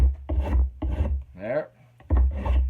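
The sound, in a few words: spokeshave shaving wooden axe handle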